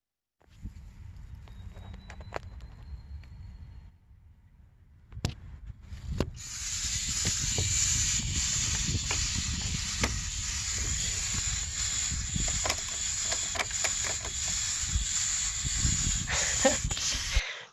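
Chimney swift nestlings hiss loudly and continuously from inside a nesting tower, a harsh, breathy rasp that swells after a brief quieter stretch and stays steady, close and intense.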